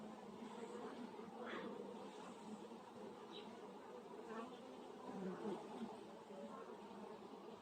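A colony of honeybees drones steadily inside an opened hive during an inspection in March, a dense continuous buzz that holds at an even level throughout with brief louder swells.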